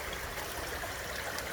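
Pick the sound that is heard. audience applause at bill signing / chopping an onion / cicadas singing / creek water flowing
creek water flowing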